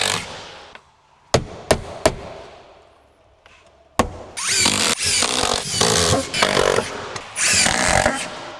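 A power driver sets screws into interior window trim: a few sharp clicks and taps, then loud close whirring bursts of driving, several in a row.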